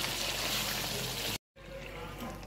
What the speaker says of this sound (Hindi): तो पानी आपने गर्म डालना है, कच्चा पानी आप नहीं डालेंगे।